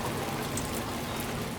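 Rain in the Death Stranding 2 game world, a steady soft hiss of falling water with faint scattered drops, continuous and fairly quiet.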